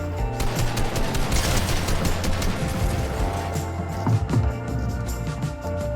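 Pump shotgun blasts and rapid gunfire from the video game Grind Reload crack in dense bursts, with a loud shot standing out near the end over game ambience.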